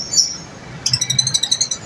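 Pet birds chirp nearby, one brief high call followed by a quick rhythmic run of repeated bright tweets, loud and clear with no speech.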